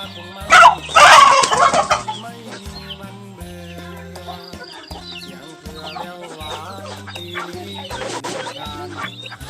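Free-range native Thai chickens clucking and calling at feeding time, with a loud burst of flapping and squawking near the start, then steady nearby clucks over a quiet backdrop of soft music.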